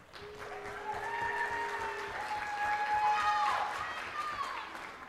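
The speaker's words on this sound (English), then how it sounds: "we can cheer for all of them" A school pageant audience applauds and cheers for the contestants, a sustained wash of clapping with whoops and shouts swelling in the middle before easing off, voices mixed in.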